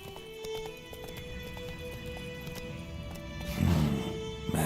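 Hooves clop in a steady rhythm as the horse Roach gallops in The Witcher 3, with repeated game effect tones over the top and a louder burst of movement near the end.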